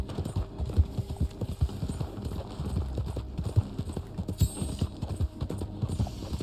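Horse hooves in the Red Dead Online video game clop in a quick, steady galloping rhythm, close and fairly loud over a low rumble.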